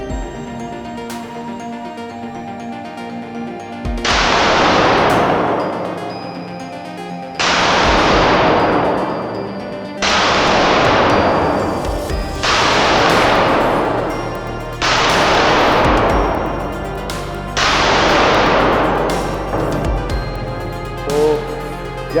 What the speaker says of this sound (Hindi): जैसा कि अभी 6 कार्टिज हमारे फायर हो चुके हैं नाइट्रो के